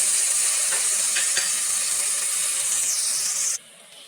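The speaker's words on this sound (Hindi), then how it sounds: "अब हम इसके अंदर अपना टमाटर का पेस्ट डालेंगे।" Loud, steady hiss and sizzle as tomato paste goes into onions frying in a pan, continuous for a few seconds before abruptly dropping to a quieter simmer.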